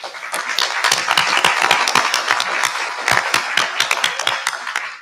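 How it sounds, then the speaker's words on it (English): A meeting audience applauds three students with a dense, steady round of clapping, loud and close, lasting several seconds with no talk over it. "we should definitely give them a round of applause"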